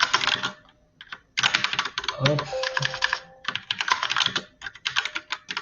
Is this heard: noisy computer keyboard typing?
yes